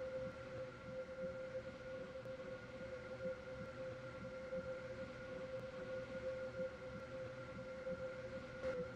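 A Class 385/1 electric train stands at a station platform in the Roblox game SCR, giving a steady mechanical hum with sustained tonal whines and no speech.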